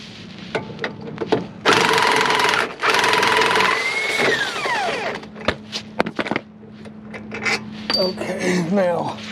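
Bursts of power tool whirring and ratcheting while strut bolts, 15mm, are removed from a Chevrolet Silverado front suspension, with metallic clinks between, close and loud, a voice talking at times.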